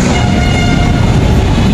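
LRT light rail train rumbling past overhead on the elevated track near Monumento, a loud, steady, continuous roar with no talk.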